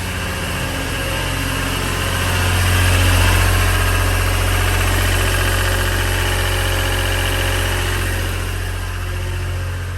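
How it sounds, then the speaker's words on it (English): Roadside air compressor powered by a three-cylinder Deutz diesel engine running steadily at idle, a loud, continuous low throb with a slight swell in level partway through, no voices. "I bought a roadside compressor with a 3-cylinder Deutsch on it"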